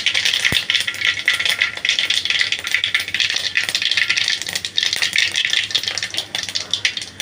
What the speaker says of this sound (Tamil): எண்ணெய் சூடானோன்னா கடுகு கொஞ்சம், கடுகு பொரிஞ்சோன்னா கொஞ்சோண்டு சீரகம் சேர்த்துக்கோங்க.